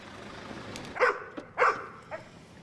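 Guard dogs at a secured car park near Charles de Gaulle airport give a few sharp barks at middle distance over low background noise.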